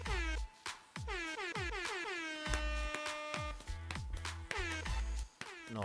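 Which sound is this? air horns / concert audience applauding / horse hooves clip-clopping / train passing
air horns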